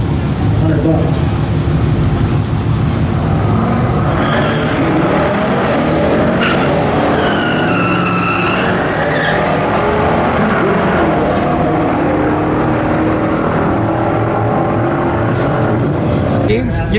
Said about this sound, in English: First time drag racing this car.